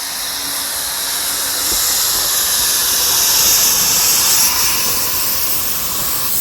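Steam locomotive number 54 on a heritage railway, letting out a loud, continuous hiss of steam that swells and holds close by, with no talk.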